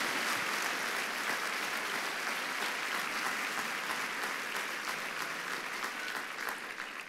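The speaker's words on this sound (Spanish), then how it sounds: "¿Cuánto le da un aplauso al Rey de Reyes," A church congregation gives sustained applause during a sermon, a dense, even roar of clapping that holds steady and fades slightly toward the end.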